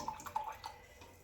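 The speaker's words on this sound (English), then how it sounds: "Rinse out my mixing brush." Watercolour mixing brush rinsed in a water jar, giving soft intermittent swishes and small splashy clinks, close and quiet, fading out toward the end.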